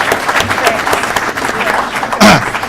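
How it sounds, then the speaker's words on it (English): An audience at a Saturday morning legislative coffee applauds its visiting legislators, sustained clapping from many hands in a room, steady and fairly loud, with a voice briefly rising over it near the end. "give a big round of applause to our legislators for sharing part of their Saturday morning with us."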